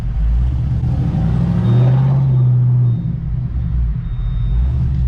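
A Ford Mustang and a Pontiac G8 GT accelerate hard side by side from a 40 mph roll, a heavy engine rumble swelling as they pull away, heard loud from inside one of the cars.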